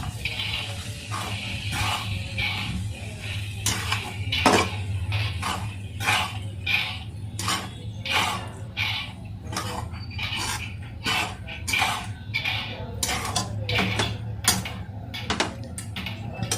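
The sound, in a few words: stirring and mixing ingredients in a pan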